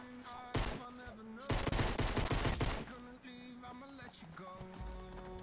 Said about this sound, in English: The gunshots are getting closer.